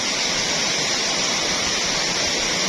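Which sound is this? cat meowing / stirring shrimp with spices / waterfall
waterfall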